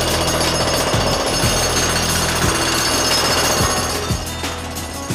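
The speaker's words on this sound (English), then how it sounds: "we're going to jackhammer up the floor about 18 inches out from the wall" Loud, continuous jackhammer pounding through a basement concrete floor, a steady rapid hammering that fills the space close up, with no talk over it.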